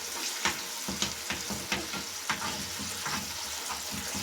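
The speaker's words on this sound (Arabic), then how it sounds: "نعمل البيض كده، نفتح البيض كده" Eggs frying in a pan with tomatoes, a steady crackling sizzle broken by a few sharp pops and taps at the start, close and alone with no talking.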